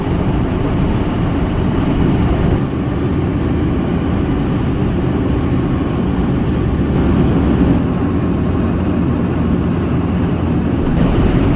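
Steady wind roars and buffets outdoors during a winter tent trip in a constant, loud rush, with no voices.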